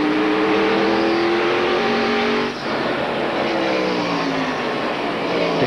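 NASCAR Winston Cup race cars at Richmond International in 1995, loud continuous engine roar from several cars at once, with pitches sliding as they pass, briefly dipping midway.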